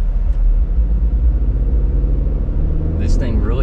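A 2024 GMC Canyon pickup towing a trailer in tow haul mode pulls away from a stop, its engine a deep, loud, steady rumble close by, with a voice speaking over it.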